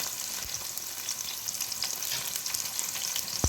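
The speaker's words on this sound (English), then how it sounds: "I'll let it fry." Onions and green chilies frying in a pan for a mutton stew, giving a steady close sizzle with a bright crackle throughout and a sharp pop near the end, with no talking.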